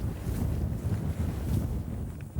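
Wind blowing over the vast tidal flats of the Bay of Mont Saint-Michel, a loud, steady buffeting roar with gusty rumble against the microphone and no voices.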